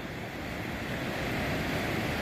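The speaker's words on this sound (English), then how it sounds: "Man, I love the ocean on a sunny day." Ocean surf on a sunny day at Florence, Oregon, a steady broadband wash of waves mixed with wind buffeting the microphone, without voices.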